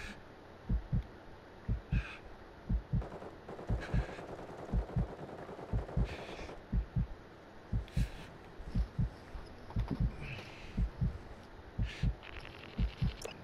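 Gunfire in an online shooter game rings out as repeated sharp, close bursts in a steady irregular rhythm over a constant background bed of game sound.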